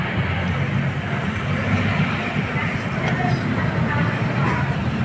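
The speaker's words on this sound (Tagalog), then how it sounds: "bibirit ko po siya para marinig nyo" A second-hand repossessed motorcycle engine runs loud and close, a sustained rough rumble with slight swells as the throttle is worked.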